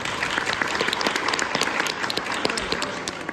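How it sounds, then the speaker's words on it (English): An audience at a Comic Con panel claps steadily, a dense wash of applause with no voices rising above it. "Wait till the applause subsides."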